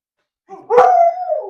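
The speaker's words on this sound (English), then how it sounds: "My dogs just like to bark at everything." A dog lets out a single drawn-out howling bark at home, loud and close, starting with a soft whine and swelling into a sustained wavering yowl that trails off.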